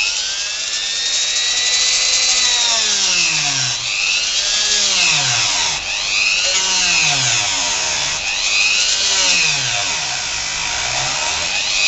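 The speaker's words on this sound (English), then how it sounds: "if you kind of just get your Dremel, cut it in nice and level" A handheld Dremel rotary tool cuts into MDF, its high, loud whine dipping and rising in repeated sweeps as the bit bites and eases off, steady and close throughout with no speech.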